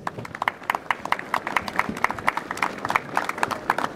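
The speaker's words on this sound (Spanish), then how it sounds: "a quien vamos a darle la bienvenida con cálidos aplausos de todos ustedes" An audience at the opening ceremony of a football tournament claps to welcome a professor, a moderate patter of individual hand claps, steady and fairly close, with no voices over it.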